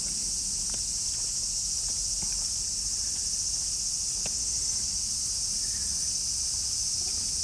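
Many cicadas sing in the trees of rainy Tokyo, a dense, continuous high-pitched drone that fills the air steadily, with faint scattered ticks and patters underneath.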